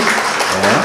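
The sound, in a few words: congregation applauding in church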